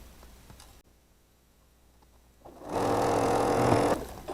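A sewing machine stitches a quilt block in one burst of fast, steady whirring lasting over a second, following a quiet stretch with faint handling sounds.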